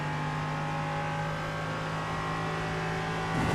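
An LMP3 prototype race car in a racing sim, its engine holding a steady, close drone while the rear tyres spin on corner exit, with a brief surge of revs at the very end and no talking.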